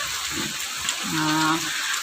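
Steady rain falling outdoors in Thrissur, Kerala: a continuous hissing patter throughout, with a brief tonal voice-like sound partway through.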